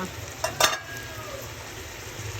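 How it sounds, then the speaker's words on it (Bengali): Tilapia fish sautéing with spices in a pan for fish pulao, with a low, steady sizzle and a brief clatter of a utensil near the start. "কিছুক্ষণ এটা মাছটা একটু কষানো হোক"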